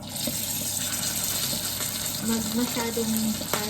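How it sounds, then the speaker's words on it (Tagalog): Fish fries in a pan of hot oil with a steady crackling sizzle and scattered spitting pops of splattering oil, close and continuous, with a faint voice briefly underneath. "Tumatalsik yung mantika."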